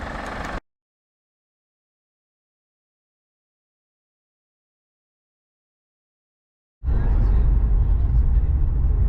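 A 2008 Acura TL engine fitted with a cold air intake, heard from inside the cabin: a short low rumble, then several seconds of silence, then a loud, steady engine drone for the final two seconds.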